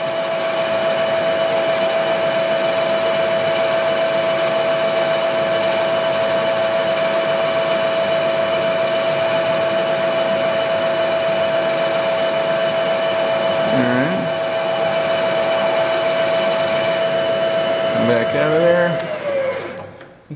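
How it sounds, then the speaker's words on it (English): A milling machine runs under hand feed, a loud steady motor whine with a constant tone that continues for the whole stretch, with small changes near the end as the cut shifts. "The mill had a little vibration that I didn't like. So I'm just hand feeding this."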